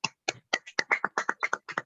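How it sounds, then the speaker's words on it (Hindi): About a dozen crisp, close hand claps in a quick, slightly uneven rhythm, sounding like one or two people clapping into a microphone during an online meeting, with silence between each clap. "एक बार जोरदार तालियां सर और मैम के लिए।"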